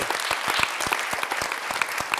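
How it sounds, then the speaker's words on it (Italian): Scattered, distinct claps from a small group at a primary school event, individual hand strikes clearly separated in an irregular rhythm, fairly close and moderately loud. "allora facciamo un applauso globale"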